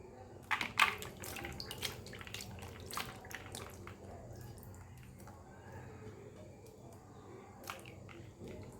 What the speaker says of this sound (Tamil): நல்லா இந்த மாதிரி ஒரு 2-3 தண்ணியில் நல்லாவே அலசிக்கலாம்